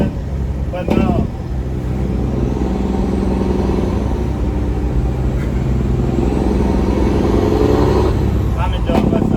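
A loud straight-piped Freightliner Coronado glider truck engine idles and revs with a steady, deep rumble throughout, a brief rise near the start and at the end.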